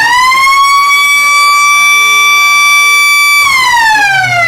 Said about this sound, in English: Big kick on the 3/4 time siren for Riordan.